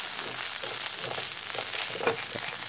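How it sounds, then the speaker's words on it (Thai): Khua kling, a spicy southern Thai dish, being stir-fried in a hot pan, with a steady, close sizzle and frying crackle throughout and occasional scraping stir noises. "ผัดไปขอเวลาผัดอีกประมาณสักนาทีหนึ่งสองนาทีครับ"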